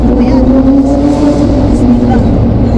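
A Ferrari engine drones loud and close in a steady, sustained growl with no clear gear changes, a voice speaking over it.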